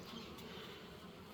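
Honeybees buzz around a two-storey beehive with a slotted frame between the levels, a faint steady hum of many insects heard close and continuous, without voices.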